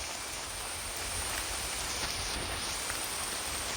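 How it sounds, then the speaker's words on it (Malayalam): Heavy rain pours down in a constant, dense hiss that stays even and loud throughout the short stretch, with no voices. "ഭയങ്കര മഴയാണ് ഗൈസ്,"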